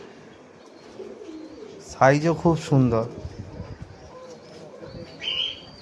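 White homer pigeons on a rooftop farm coo softly in the background while someone talks briefly over them.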